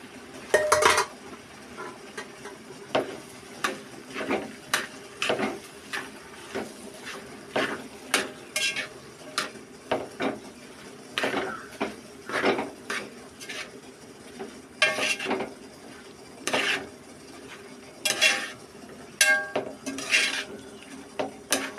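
Tapioca and clam meat being mixed in a metal pot, with repeated scraping and clinking of a spoon against the pot in an irregular rhythm, close and fairly quiet.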